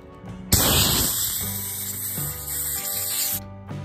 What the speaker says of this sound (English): So now we take some compressed air and clean all the shavings out.